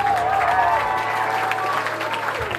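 A concert crowd at a hardcore punk show cheers and applauds, a dense wash of clapping and shouting that carries steadily for a couple of seconds at close range.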